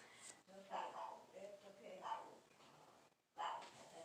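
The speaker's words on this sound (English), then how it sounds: "my Nana's dog was barking" A dog barks repeatedly indoors, several muffled yips and barks in an uneven rhythm, faint and somewhat distant, with a brief pause before one last bark.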